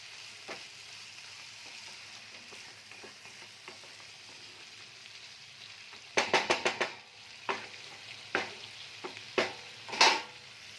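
Pointed gourd sizzles steadily in hot oil with spices, while a spoon stirs and scrapes the pan in a quick cluster of clatters followed by several spaced knocks, close and moderately loud.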